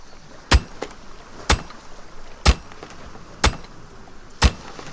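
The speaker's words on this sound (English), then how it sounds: "Just hammer away at this." Hammering in the survival game Aska: five sharp, evenly spaced impacts about one second apart, each ringing briefly over a faint background hum, with no talking.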